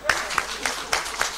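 Scattered audience clapping at an official results release event, a short run of distinct claps with crowd murmur underneath.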